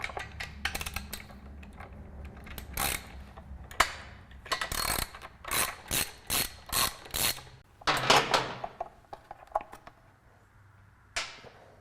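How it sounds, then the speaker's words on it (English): A ratchet with a 9/16 socket on a long extension loosens Harley air cleaner bolts, giving close, crisp clicking bursts in a steady rhythm of several strokes with brief pauses between. "On this particular model, you need a 9/16 socket to remove each one of those."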